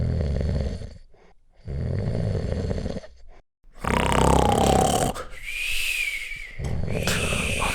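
A man imitates snoring as a joke: loud, close, rasping snore-like breaths with grunting and whistling tones, repeated several times with brief pauses between them.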